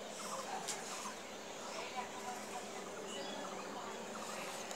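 Chickens call outdoors, faint fowl clucks scattered through a steady wash of broadband background noise with no clear voices.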